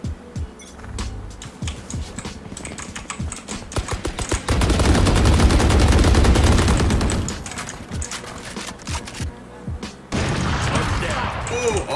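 Rapid gunfire in the Valorant shooter game, with bursts of automatic shots building into a dense, loud sustained volley midway, then sharp single shots and further bursts, mixed with game sounds and occasional talk.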